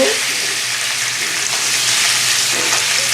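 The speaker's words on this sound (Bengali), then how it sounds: "এবার আমি এটা ডিমটা তেলে ছেড়ে দেবো" A salted boiled egg fries in hot oil, giving a loud, close, continuous sizzle and crackle with no voices over it.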